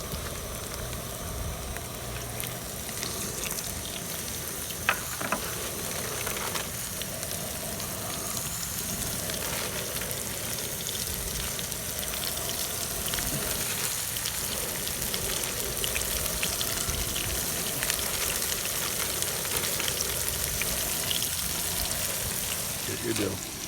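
Fish sizzles and crackles steadily in hot oil while being cooked outdoors after a spillway fishing trip. The dense, rain-like hiss goes on without a break, and voices talk faintly over it.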